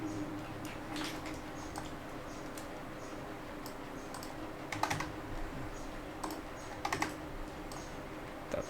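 Computer keyboard keys tapped while entering a Ctrl+A apply-transform shortcut in Blender, a run of close, light clicks at an uneven pace with brief clustered bursts over faint room hum.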